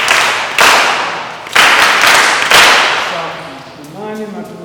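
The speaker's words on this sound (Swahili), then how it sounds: "Haya, pigeni makofi." An audience claps on request in a church gathering, giving three loud bursts of applause that each fade before a voice starts speaking at the end.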